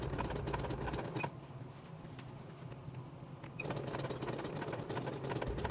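A sewing machine stitches a jeans crotch seam in a continuous whirring run. It pauses briefly in the middle and then resumes at a quiet, close level.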